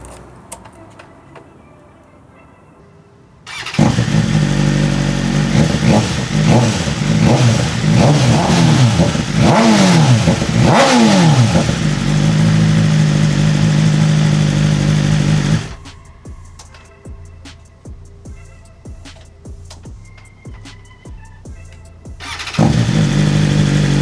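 A 2023 BMW M1000RR motorcycle engine fires up, then settles into a steady idle punctuated by sharp throttle blips and revs, drops to a quieter idle, and roars back with more revving near the end, loud and close.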